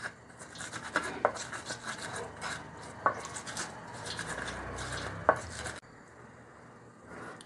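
Chili, garlic, shallot and seasoning sambal ground by hand, a steady close scraping and rubbing with sharp knocks every couple of seconds, then stopping.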